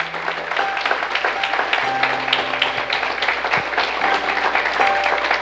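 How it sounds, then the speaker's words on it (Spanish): A church congregation applauds steadily over held musical tones, a continuous wash of clapping at moderate distance for several seconds. "Aplauda la grandeza de Dios en esta mañana."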